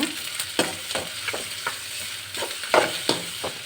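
A spatula scrapes and stirs sliced onions and grated coconut in a frying pan, with repeated irregular scraping strokes over a soft, steady sizzle, close and fairly loud, no voices.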